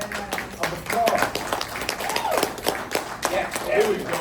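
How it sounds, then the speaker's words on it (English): An audience at a writers' lecture event at LIU applauds the writers, brisk continuous clapping with a few cheers and voices mixed in throughout. "Give them a round of applause."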